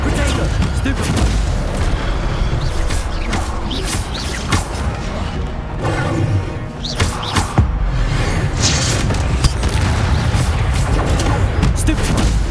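Spell-casting combat in Hogwarts Legacy, with repeated booming impacts, crashes and thuds over a constant dense rumble of battle effects, loud and close, with speech mixed in.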